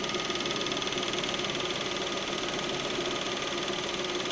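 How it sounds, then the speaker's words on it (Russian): An idling Lada Priora with the 127 engine, its adsorber valve knocking in a fast, steady tick under a constant loud engine drone, recorded close up with no talk. "127 двигатель Приора. Стучит клапан адсорбера."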